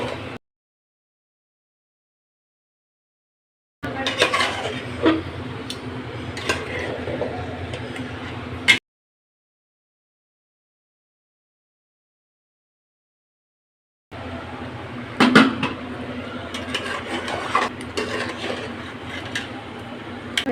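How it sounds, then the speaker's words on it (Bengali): Bhuna khichuri with meat is stirred in a cooking pot in two separate bursts of close, busy clatter, with a ladle scraping and clinking against metal over a low sizzle and silent gaps between. "আমি নেড়ে চেড়ে দিতেছি"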